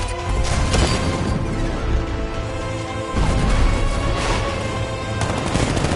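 Rapid gunfire from an unmanned tank's riot suppressor in the Batman Arkham Knight video game, sustained bursts of dense crackling shots layered over game music and explosions, loud and continuous throughout.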